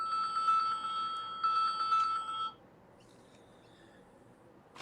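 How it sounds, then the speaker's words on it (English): A mobile phone ringing with a bright electronic melodic tone, two bursts in quick succession at moderate loudness before it cuts off, followed by quiet room hiss. "my phone's ringing."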